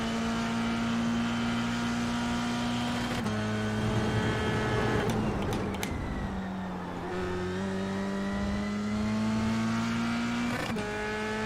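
Race car engine in the iRacing sim racing game droning steadily at high revs, holding near the rev limiter with brief dips and shifts, loud and continuous throughout.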